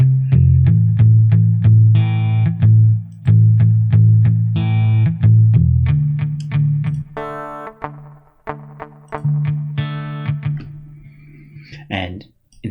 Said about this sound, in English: I've given a little bit of echo, which is just a delay